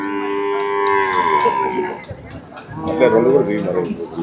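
A cow at the Sardar Nagar cattle market, where HF and Jersey cows are sold, lets out a long, loud moo up close, followed by further lowing calls amid market bustle and nearby voices.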